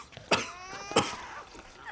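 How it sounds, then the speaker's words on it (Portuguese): A child who has been ill for days coughs twice, two sharp close coughs about half a second apart with faint rasping in between. "Mas tá tossindo há dias."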